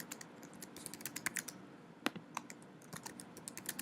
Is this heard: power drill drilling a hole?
no